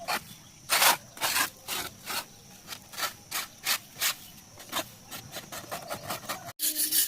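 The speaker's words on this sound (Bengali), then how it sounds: "রূপ কোট করার আগে ছাদটা ভালো করে ঘষে জল দিয়ে ধুয়ে নিতে হবে।" A flat concrete roof is scrubbed by hand before a heat-reflective coating is applied. About a dozen rhythmic, rasping rub strokes sound close and fairly quiet, each one distinct, with a brief pause before the scrubbing resumes.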